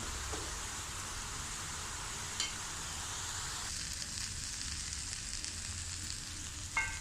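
Raw jackfruit rind stir-frying in a pan, a faint, even hiss of frying with a couple of light scraping stirs, steady and unbroken from start to finish.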